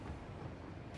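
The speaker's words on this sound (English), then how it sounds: "That was the train I wanted to be on," A train rolls past in a factory-building video game, a brief, dense, steady rumble with no voices over it.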